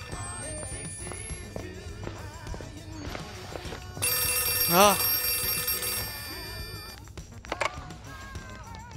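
A telephone rings for a couple of seconds in a tense indoor scene, a loud electronic trill that stands out from a busy background of voices and other noises.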